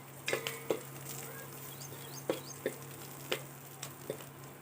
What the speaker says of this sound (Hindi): तो इस तरह से 2 से 3 मिनट तक तलना है।